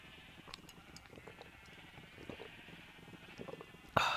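Sheep bleating in the video game Minecraft, set in a swamp area: faint, scattered bleats over a busy low background of game sounds, ending in a sudden loud burst near the close.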